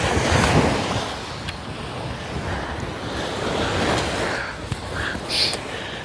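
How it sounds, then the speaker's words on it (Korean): Wind gusting across a seashore during surf-casting fishing in Daecheon, with waves washing and surf roaring throughout, buffeting the microphone in close, steady bursts. "바람이. 근데 조금 애매하게 부는구만."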